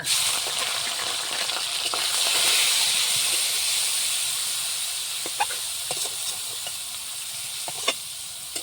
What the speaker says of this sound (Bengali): সুন্দরভাবে নাড়াচাড়া করে মাছটা ভেজে দিচ্ছি